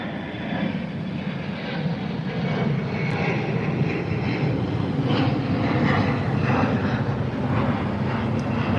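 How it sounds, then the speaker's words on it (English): An American Airlines jet passes overhead at Chicago O'Hare airport, a steady loud roar of engines that swells slightly and holds throughout with a broad rumbling wash and no speech. "We got an airplane flying overhead, so it's pretty cool."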